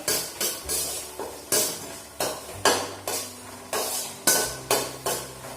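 Sliced raw banana is sautéed in a pan as a spatula scrapes and clanks against the metal about a dozen times in a steady rhythm, over a soft sizzle, close by and with no talking.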